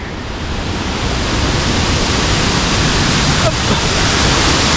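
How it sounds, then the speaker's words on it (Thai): Heavy water pours down a tier of Krathing waterfall in Chanthaburi, Thailand, a loud, steady broadband rush that fills the whole stretch without pause and stays close and constant. "น้ำตก น้ำเยอะ"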